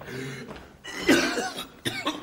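A man coughs several times in quick, harsh bursts, close and fairly loud, with short breathy gaps between the coughs.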